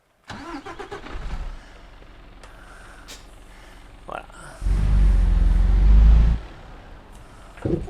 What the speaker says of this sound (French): Alors, je vais démarrer le camion.